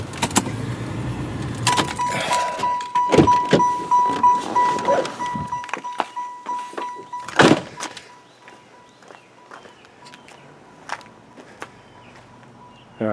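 A 1996 Chevrolet Impala SS with a 383 engine idles with a low rumble for a moment, then shuts off. Jangling keys, a steady chime and the thud of a door follow in the quiet that comes after.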